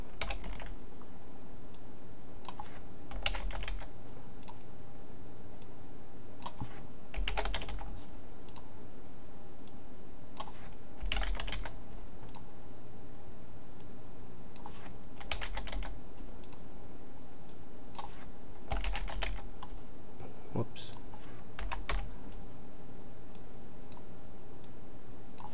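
Someone types code on a computer keyboard in quick bursts of clicking keys every few seconds, with quieter pauses between the flurries.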